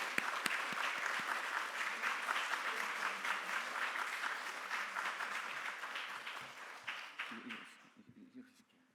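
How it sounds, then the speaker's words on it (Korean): A church congregation applauds warmly for a pastor coming forward, dense steady clapping that fills the room for several seconds before thinning and fading out near the end. "우리 목사님 나오실 때에 우리 뜨거운 박수로 하나님께 영광 돌리겠습니다"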